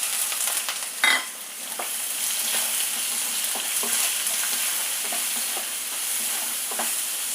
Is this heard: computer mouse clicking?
no